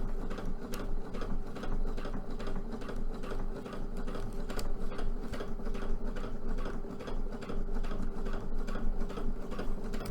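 Sewing machine stitching fabric for a Mercy cosplay, a loud, continuous mechanical whir with rapid ticking needle strokes running steadily and close up, no speech.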